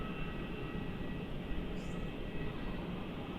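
A Jetstar jet on flight 772 to Adelaide takes off from runway 27 at Melbourne Airport, heard as a steady, fairly distant engine rumble with faint talk in the background.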